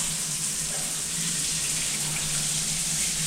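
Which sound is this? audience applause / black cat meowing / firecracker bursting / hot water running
hot water running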